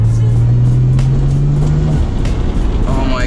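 A twin-turbo Nissan 300ZX engine drones loudly from inside the car while driving, holding a steady low hum that fades out partway as road and cabin noise take over.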